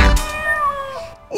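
A single drawn-out sung meow, a voice imitating a cat in a children's song, with backing music underneath.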